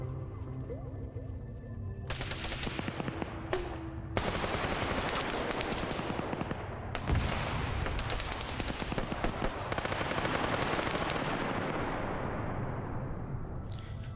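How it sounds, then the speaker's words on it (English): In an Arma 3 firefight, automatic rifle fire rattles in long bursts and scattered single shots, some near and loud, others distant and echoing, with a brief quieter stretch at the start and no talk. "he is now firing accurately into BLUFOR's position right here, a little high"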